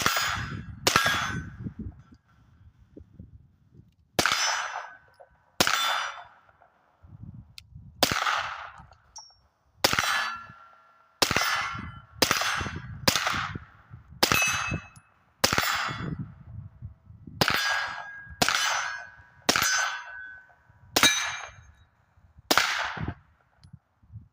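A series of sharp, loud suppressed gunshot cracks from a Resilient Suppressors RSP suppressor at a range, fired singly and in quick pairs with short gaps, about fifteen shots, no talking.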